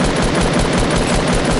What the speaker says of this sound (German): Oder wenn du nicht die ganze Zeit schießen würdest